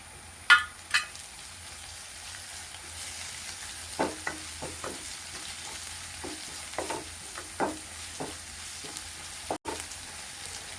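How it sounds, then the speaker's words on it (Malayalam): Sliced onion softened in a pan with crushed ginger and garlic: a low, continuous sizzle runs throughout, broken by occasional scraping and clinking stirs of a spoon against the pan, with no voices. "സവാള ഇത്രയും വഴന്നു ഇനി ഞാൻ ഇഞ്ചി ചതച്ചതും വെളുത്തുള്ളി ചതച്ചതും ഇട്ട് കൊടുത്തു"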